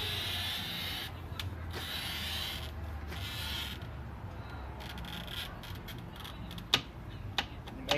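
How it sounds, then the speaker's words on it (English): A glass cutter is pulled with steady pressure across a large clamped mirror, giving a continuous close scratching rasp that lasts throughout, with a few sharp ticks and clicks near the end. "pull with a nice pressure, making a scratching sound"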